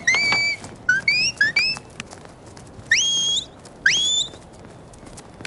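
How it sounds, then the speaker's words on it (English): Shepherd's whistle commands to a sheepdog at a herding trial: a long rising tone, then three short rising chirps, then two more sharp upward-sweeping blasts, clear and close over faint outdoor background. "Now a blowback whistle to come."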